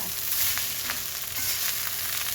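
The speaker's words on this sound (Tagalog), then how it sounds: "Kailangan lutuin ang kanin sa sinangag para masarap siya." Cooked rice frying in a hot pan for Filipino sinangag garlic fried rice, a steady dense sizzle with faint scraping stirs, close and continuous without any voices.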